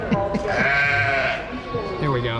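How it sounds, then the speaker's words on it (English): Sheep or goats in a county fair livestock pen bleat loudly and close by, with one long wavering cry in the middle, under a clearly speaking voice. "Some very loud bleating going on over here."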